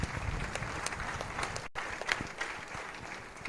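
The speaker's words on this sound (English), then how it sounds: "A big hand clap for the Bishop once again." Audience clapping for the Bishop at a Catholic youth gathering in Uganda, faint, dense applause from a crowd sustained evenly throughout with a brief dropout midway.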